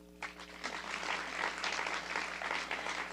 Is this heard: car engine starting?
no